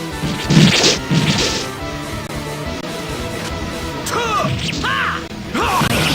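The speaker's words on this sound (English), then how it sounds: "Energy arrow!" Energy Arrow spell attacks in the Star Ocean Second Evolution battle system land with loud smashing thwacks, two sharp hits up front and swooshing impacts later, all over steady game music.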